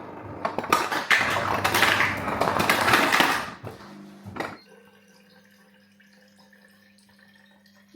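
Water pours into a pet's bowl at home: about three seconds of steady splashing, then a short clatter, after which the room falls quiet with a faint hum.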